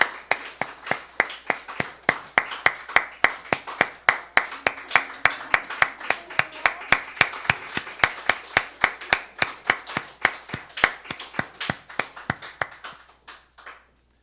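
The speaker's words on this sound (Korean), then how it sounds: "우리 큰 박수로" At an Easter church service, a group claps in a steady rhythmic beat, sharp evenly spaced hand claps repeating about three times a second for over ten seconds before fading and stopping.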